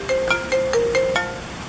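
A phone tucked in a makeup-bag phone case plays a short melodic ringtone of several clear beeping tones in a quick rising and falling pattern.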